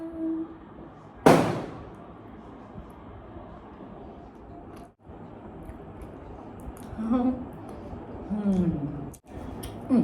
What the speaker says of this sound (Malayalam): പടക്കം പൊട്ടുകൾ കഴിഞ്ഞു